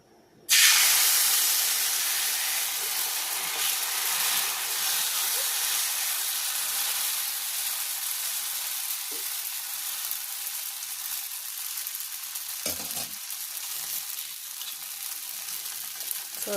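Green gram dosa (pesarattu) batter sizzles steadily on a hot oiled pan, a bright continuous hiss that starts abruptly and holds loud for the whole stretch, with a couple of faint clicks near the end and no talking.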